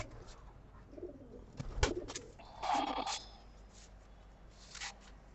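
Malwai Punjabi high-flying pigeons cooing faintly at moderate distance, a few soft low coos and calls over quiet background with a brief rustle midway.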